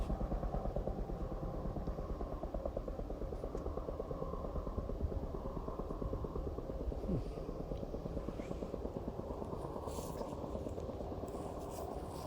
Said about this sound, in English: They're doing helicopter logging a couple ridges over.